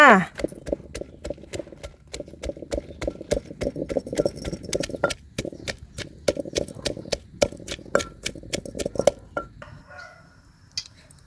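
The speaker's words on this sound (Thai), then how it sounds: "ตำพริกกับกระเทียมจ้า" Rapid rhythmic thuds of a pestle pounding chilies and garlic in a mortar, steady and close, continuing for several seconds before stopping near the end.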